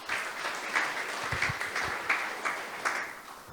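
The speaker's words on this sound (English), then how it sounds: "Applause, please." An audience at a startup community forum claps steadily for several seconds, a dense, even patter of many hands filling the room with no talk over it.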